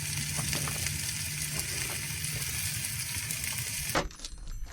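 Food sizzles and fries steadily in a cast iron pan during a Christmas cookout, a dense crackling hiss with scattered pops that cuts off abruptly near the end.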